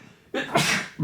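A single sharp human sneeze, close and fairly loud, with a short intake of breath before it, heard indoors during a football podcast recording.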